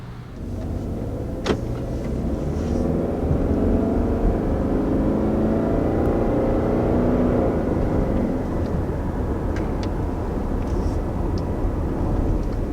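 A 2020 Subaru Outback with its naturally aspirated 2.5-liter boxer four-cylinder, 182 horsepower, pulls away and accelerates, a steady rising engine drone from inside the car, loud and sustained with faint clicks above.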